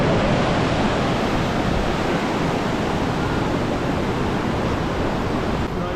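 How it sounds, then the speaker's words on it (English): A swollen river rushes past after a landslide, a loud, constant broadband roar of churning water filling the scene close by without any break or voices. "Look at the river."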